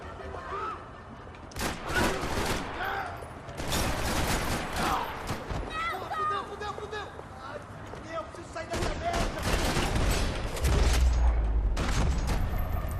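Max Payne 3 gunfight with sharp, loud gunshots cracking in irregular bursts and volleys, mixed with in-game voices and talking over the shooting.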